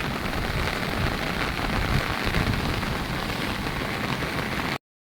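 A downpour of heavy rain hisses in a continuous, loud wash of drops striking the surface, unbroken for about five seconds before cutting off abruptly.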